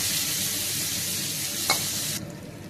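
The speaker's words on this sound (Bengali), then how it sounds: "সেগুলো এখন ভেজে নেব অল্প" Coconut pieces fry in a pan with a steady, close broadband sizzle; a single light clink of a utensil comes partway through, and the hiss abruptly softens near the end.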